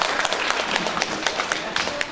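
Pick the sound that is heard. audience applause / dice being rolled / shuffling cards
audience applause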